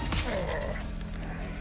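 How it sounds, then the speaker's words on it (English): A flash grenade goes off in the Resident Evil 4 Remake Mercenaries mode, a sharp bright shattering crack followed by a ringing, fading tail, with faint voice and game sounds underneath. "Do I have any flash grenades? I do have flash grenades."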